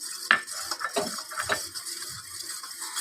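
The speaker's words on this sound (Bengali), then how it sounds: "এর মধ্যে আমি অ্যারারুটটা মিশিয়ে ভালো করে একটু মিক্স করে" Arrowroot being stirred into beetroot juice and water: a spoon clinks and scrapes against the container in quick, close, irregular strokes, with no voices.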